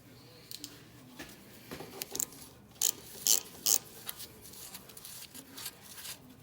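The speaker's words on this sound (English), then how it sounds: "Next, I'll take the upper caliper bolt off and the lower one." A hand ratchet loosens the 13 mm caliper bolts on a 2008-2020 Dodge Caravan, with a string of close, quick clicking bursts and a few louder snaps, heard alone with no talk.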